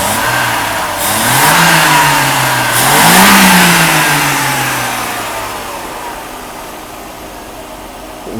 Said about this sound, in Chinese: 引擎运转是顺畅，不过车子没力